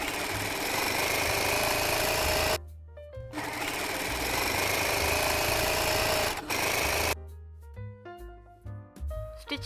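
A sewing machine stitches a folded double hem on a lace curtain, running in steady bursts of rapid needle chatter separated by short pauses and a quiet stretch near the end.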